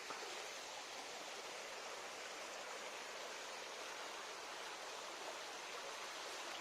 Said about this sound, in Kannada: ತೋಡಿಲಿ ನೀರು ಹೋಗ್ತಾ ಇದ್ದು